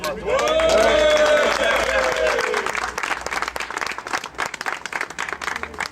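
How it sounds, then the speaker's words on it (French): Audience applause for a raffle winner at an RC model car race event, with clapping and cheering mixed with loud overlapping voices and tonal sounds early, settling into scattered claps under chatter. "Donc il faut vous applaudir."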